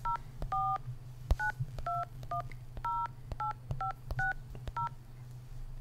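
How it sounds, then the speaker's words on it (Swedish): A phone dials a number with a quick series of DTMF keypad tones, about a dozen short beeps in an uneven rhythm over a low steady hum, with no one speaking. "Ska vi ringa Mehmet? Vi gör det. Vi gör det. Vi ringer här, så vi ser."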